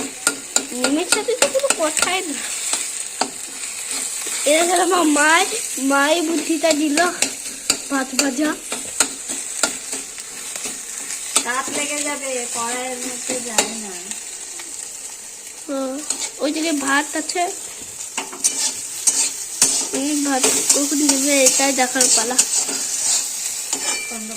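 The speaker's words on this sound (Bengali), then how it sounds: "ডিম দিয়ে এখানে ভাত ভাজা হবে" Rice and egg stir-fry in a hot pan, giving a steady, close sizzle throughout with repeated scraping and clinking from the spatula, while voices talk intermittently over the cooking.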